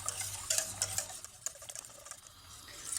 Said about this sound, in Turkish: Evet kaynayıp kıvamını bulana kadar karıştırıyoruz